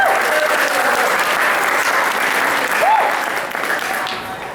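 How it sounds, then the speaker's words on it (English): A convention crowd at an anime convention's opening ceremony applauds in a loud, sustained roar of clapping and cheering that tapers off toward the end. "Give yourself a round of applause for coming in."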